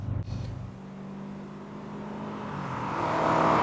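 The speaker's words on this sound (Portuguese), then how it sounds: "Motor incrível, esse aqui," A 1979 Aston Martin Lagonda V8 driving: a low, smooth engine drone steadies after a brief knock, then climbs in pitch and loudness as it builds toward the end.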